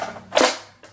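A Nerf Elite Retaliator toy blaster being primed, giving one sharp plastic clack followed by a fainter mechanical click near the end, close and loud with no voices.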